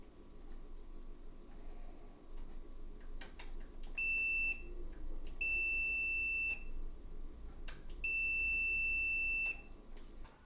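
Three steady high electronic tones from a multimeter continuity test on a Sony Vaio VGC-M1 power-button micro switch, each lasting about a second and spaced a couple of seconds apart, over faint clicks and low background hum.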